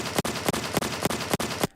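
Rapid enemy gunfire in The Last of Us Part 1 video game, about four evenly spaced sharp reports per second over a steady noisy bed, loud and close, no talking.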